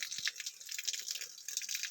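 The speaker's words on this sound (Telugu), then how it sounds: "ఒక ముక్కనైతే తీసుకున్నాం పొడవాటిది దీని ద్వారానే వాటర్ అనేది వస్తుంది" Spring water trickles out through a long split-bamboo pipe used for bathing water, making a faint, continuous, gently fluctuating trickle with no voices.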